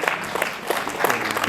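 An audience at a film festival breaks into applause, a dense patter of many hands clapping at moderate volume, heard alone without talk.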